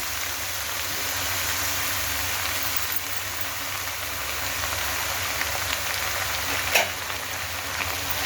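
Washed palak spinach frying in a pan with onions, a steady, even sizzle and hiss close by with a faint clatter near the end, no talking.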